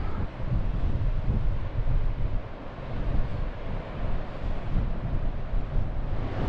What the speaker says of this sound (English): It's a bit blustery out here.